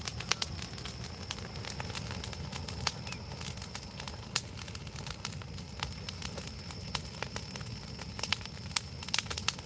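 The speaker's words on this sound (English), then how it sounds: "Well, it's because what you're hearing is the green twigs burning." Green twigs and dead branches burning in a fire crackle steadily with frequent sharp pops and snaps over a low, continuous rumble, close by and with no talking.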